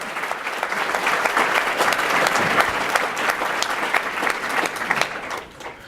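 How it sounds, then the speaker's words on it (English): An audience claps after an onstage conversation, a dense, close burst of applause with a few louder individual claps, sustained and then tapering off at the very end. "Let's give him a big round of applause."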